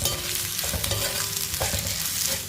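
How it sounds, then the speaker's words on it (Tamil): Spice powder sautéing in a pan with asafoetida and pink salt, a continuous close sizzle with scraping stir strokes, loud and unbroken, with no voices. "இது லைட்டாக ஒரு வதக்கிடுவோம்."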